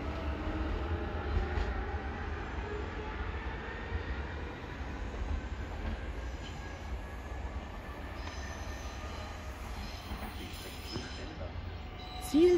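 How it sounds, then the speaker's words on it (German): A passenger train rolls into Gießen station, a steady low rumble of wheels and carriages dominating throughout, with occasional faint wheel squeal and a sharp metallic sound right at the end. "Ihr entgegen kommt dieser Hamster."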